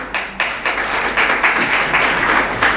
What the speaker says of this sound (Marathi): तुम्हाला जर खरंच टाळ्या वाजवायच्या असल्या तर इमानदारीनं वाजवा.